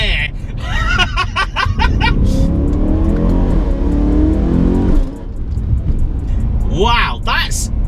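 Supercharged BMW E92 M3 producing 625 BHP, on Michelin Pilot Sport rear tyres, accelerates hard with a loud, sustained engine roar close by. Brief exclamations and laughter cut in near the start and near the end.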